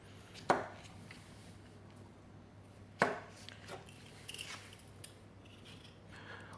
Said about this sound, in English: Just chopping the potato. Chopping the veg.